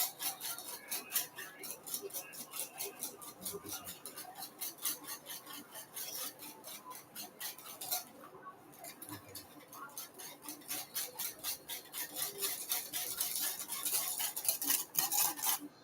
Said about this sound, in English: Okay, I'm whisking the eggs.